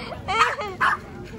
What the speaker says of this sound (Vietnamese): hai con nó đánh nhau, nó sủa nhau